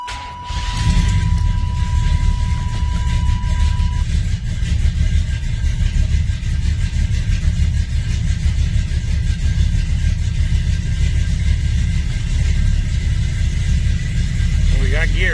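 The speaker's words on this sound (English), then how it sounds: "So let me fire it up and drive it out of here and see how everything works." A Chevrolet S10 truck with a straight axle conversion and a new TCI transmission cranks and catches within the first second, then runs at a steady, loud, close rumble as someone talks over the engine.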